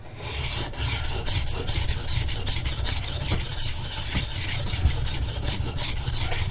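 Chisel rubbed back and forth on a sharpening stone to remove a burr, a steady close-up gritty rasping scrape that repeats in quick strokes throughout, no voices.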